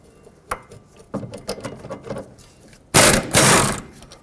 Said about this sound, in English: now we can remove these two 17mm bolts that hold the bracket onto the knuckle